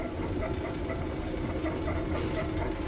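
A forestry mulcher clearing a driveway for a new homesite makes an odd noise, a steady loud heavy rumbling and clattering drone throughout.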